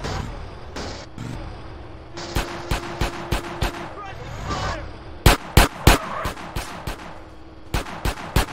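Gunfire in the video game GTA San Andreas: sharp shots ring out, first scattered and then in quick bursts, over a background of game ambience and traffic noise.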